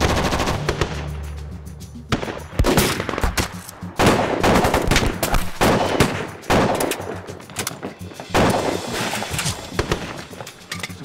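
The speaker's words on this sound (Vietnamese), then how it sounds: "cả trong lẫn ngoài thành đều nghe tiếng súng hết" Loud, close gunfire crackles in rapid machine-gun bursts with brief pauses between volleys, dense and sustained, with no speech over it.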